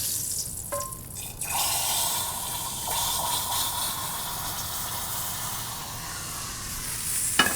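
Hot fat from searing a steak is tipped out of a pan, a steady broad hiss and sizzle running the whole time with a few brief clinks, close and fairly loud, no talking.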